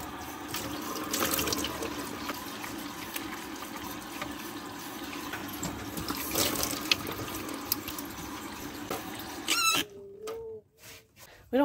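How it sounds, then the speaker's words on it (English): Cold tap water runs steadily into a sink in an RV bathroom while someone washes their face, a continuous splashing stream that stops near the end, leaving a few brief clunks and drips. "In the morning, I'm washing my face with cold water."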